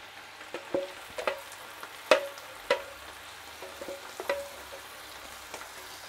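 Vegetables frying in a pan for pad thai, a quiet steady sizzle punctuated by several sharp clinks and scrapes of a utensil against the pan at an uneven pace.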